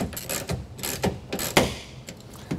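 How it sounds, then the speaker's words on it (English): Half-inch ratchet working the rear clamps of a Gator SR1 Pro roll-up bed cover on a 2022 Toyota Tundra, a run of quick metallic clicks in short bursts, close and fairly loud, with no talking. "we're going to set the rear clamps using a half inch ratchet or wrench"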